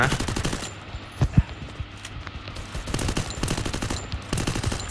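Gunfire in a shooting video game: rapid automatic bursts rattle loudly in the opening second and again across the second half, with a couple of single heavy shots in between, all close and dominant.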